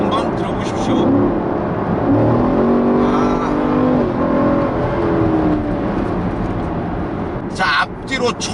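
A Chevrolet Camaro SS V8 engine revs up and settles, a deep throaty roar rising and falling in pitch over several seconds, close and loud, with a brief burst of sharper noise near the end.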